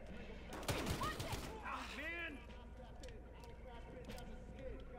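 Gunfire in the video game Battlefield Hardline comes as a short, loud cluster of shots near the start, then quieter scattered mechanical clicks and distant pops, with a faint voice speaking underneath.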